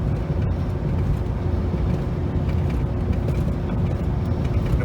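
A pickup with a continuously variable transmission cruising in fourth gear at about 2,000 RPM, giving a steady, loud engine and road drone with no breaks and no talk.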